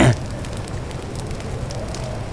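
Fire burns in The Legend of Zelda: Breath of the Wild as branches are set alight in the rain, a steady soft crackling hiss with brief louder bursts at the very start and end.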